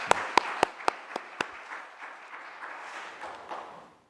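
A church congregation at a Sunday service applauds the choir. A few sharp, close claps open the applause, then a softer, scattered patter fades out.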